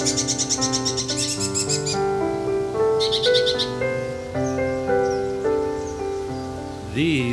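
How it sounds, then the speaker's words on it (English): Eastern kingbird chicks call from a birdhouse nest near a pond, a run of high, rapid chirping bursts at differing pitches, set against a steady tonal hum and background music throughout. "If you listen, each chick has a different tone, high and low."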